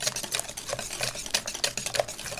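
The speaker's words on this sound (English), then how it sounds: "we're just going to mix it really good. Until the sugar is really incorporated" Batter and sugar are stirred vigorously by hand in a bowl, producing a quick, steady run of soft scraping clicks and ticks, close and fairly quiet.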